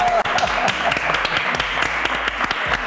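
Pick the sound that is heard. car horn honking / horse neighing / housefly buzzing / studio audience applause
studio audience applause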